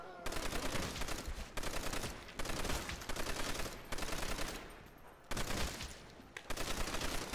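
Repeated bursts of automatic gunfire from a zombies video game, loud and close, coming in several sustained rapid volleys separated by brief pauses for reloading, with no talking over them.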